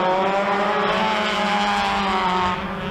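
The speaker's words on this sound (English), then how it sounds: "these guys are leaning hard on their tires, throwing it sideways into turn 1" Off-road pro racing buggies at a short course fairgrounds track throw themselves sideways into a turn, engines roaring loud and continuous with shifting pitch and a hint of tire scrub, steady throughout.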